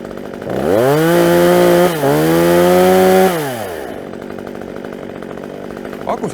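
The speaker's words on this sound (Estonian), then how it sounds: "Peamiseks probleemiks on see, et see saag on minu arvates lärmakas. Kui sa ta käima tõmbad, siis ta möliseb." A chainsaw roars loudly at high revs for about three seconds, then drops back to a lower idling drone.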